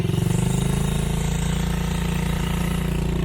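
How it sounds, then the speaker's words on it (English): A dirt bike engine drones steadily up close, with a low, pulsing throb and wind rushing across the camera microphone throughout the short ride. "this is the wind test. This is by me on my dirt bike."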